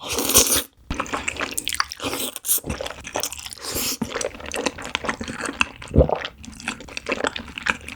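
Wide glass noodles being eaten up close, with wet slurping and crunchy bites in irregular bursts and a brief silent pause near the start.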